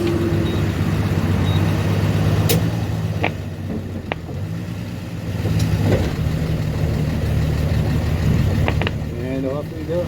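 Engine of a 1966 Dodge Dart GT barn find, recently restored after sitting since 1985, idling with a steady low rumble close by and then pulling off, with a few mechanical clicks and squeaks along the way.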